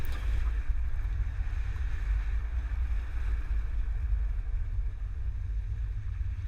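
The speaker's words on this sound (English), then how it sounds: "Now we're going to go ahead and take it on our test course. First we'll start with the slaloms." A 2023 GMC Yukon XL carrying a Hollywood Racks Destination four-bike rack drives through a slalom course, with a continuous heavy low rumble and wind noise throughout.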